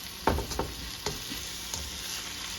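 Pepper steak vegetables cooking in a hot pan, with a steady low sizzle and several clanks and scrapes of a spatula tossing them, heard up close.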